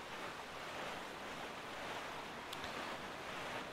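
Steady ocean surf and wind while sailing a small boat across open sea in The Legend of Zelda: The Wind Waker, a continuous broadband wash of waves heard alone, with one brief faint chime near the end.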